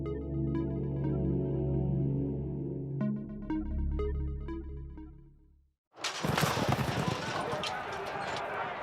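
Horses race past the post at a 1930s racetrack in Cincinnati, Ohio, with clip-clopping hoofbeats over music. The scene then cuts to a loud, noisy roar.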